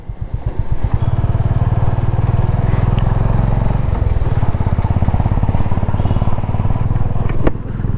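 A Honda Highness motorcycle rides along a city road in Chandigarh, its engine thumping steadily and loud close to the microphone, with a steady pulsing beat and road and wind noise around it.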